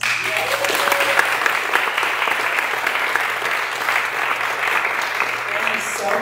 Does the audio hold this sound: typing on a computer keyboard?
no